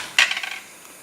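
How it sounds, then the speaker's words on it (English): A metal lid set onto a cooking pot of stewed cabbage and potato, one bright clank followed by a few quick rattling settles, close and brief. "We're going to put a lid on this."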